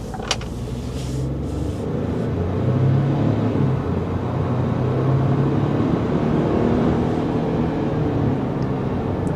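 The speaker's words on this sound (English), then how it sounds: "we'll do one acceleration here before we wrap up this test drive and see what the Expedition Active can provide us" A 2025 Ford Expedition Active SUV accelerates, heard from inside the cabin as a steady low engine drone that swells slightly as speed builds, with road noise underneath and no voices.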